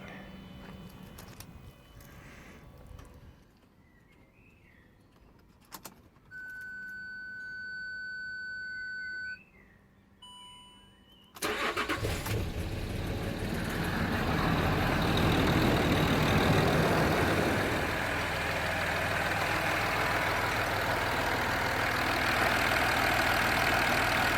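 Land Rover Discovery 3 TDV6 diesel engine: quiet electronic whirs and beeps before a start, then it catches and settles into a steady, fairly loud idle rumble.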